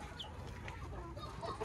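Chickens cluck softly and briefly while being herded into their coop, a faint, close farmyard sound with no talking.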